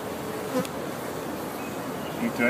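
A swarm of honeybees hums steadily during a spring hive installation, a dense continuous buzz close by with a few individual bees passing near, and no talking.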